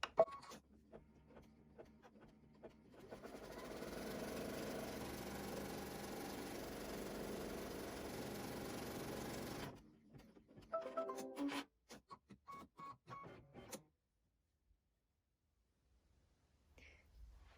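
An embroidery machine stitches backing fabric to stabilizer on a quilt block, a steady, moderately quiet mechanical whirr running for several seconds and then stopping, followed by a few short clicks and taps before near silence.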